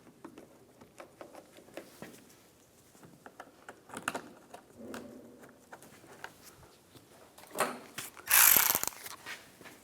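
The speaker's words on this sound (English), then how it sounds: "Get the 2 screws started." Screws are being driven into the headlight side panels of a 2015-2019 Lincoln MKC, heard as faint, close ratcheting and mechanical clicks in irregular bursts, with a louder burst near the end.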